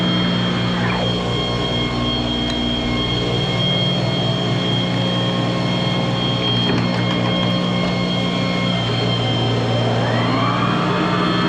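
A Monarch metal lathe runs steadily with its clutch engaged, a loud continuous mechanical hum and whine with layered tonal drones and occasional rising and falling squeals.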